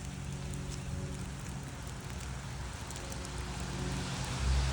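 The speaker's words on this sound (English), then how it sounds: "It's raining," Rain falls outdoors among old church ruins and graves on a cool day, a constant soft hiss with a low rumble that grows slightly stronger toward the end, no speech.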